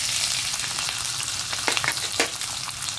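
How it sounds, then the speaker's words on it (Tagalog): Pork fat sizzles and crackles in a hot oiled pan, a dense hiss with a few sharper pops, close and fairly loud. "Prito muna natin guys itong taba."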